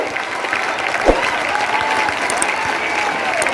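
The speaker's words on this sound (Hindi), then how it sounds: "अपने स्थान से खड़े होकर हमारे यशस्वी मुख्यमंत्री का जोरदार करतल ध्वनि से सम्मान करें" An audience at Mahatma Gandhi Inter College in Gorakhpur breaks into loud, sustained applause to honour Chief Minister Yogi, a dense wash of clapping that continues evenly throughout.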